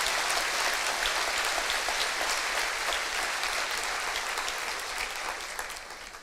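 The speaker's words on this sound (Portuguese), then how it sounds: "Pode aplaudir a esse Deus maravilhoso, pode aplaudir, pode mesmo." A church congregation applauds during a sermon, steady dense clapping that fills the space, loud and continuous for several seconds before beginning to taper slightly at the end.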